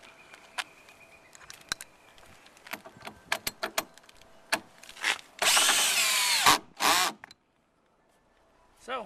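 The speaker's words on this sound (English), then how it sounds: "Simply just run your lag through the open holes." A power drill drives a lag screw into a mount, with scattered short clicks and taps, then a loud sustained burst of drilling, a second brief burst, and silence.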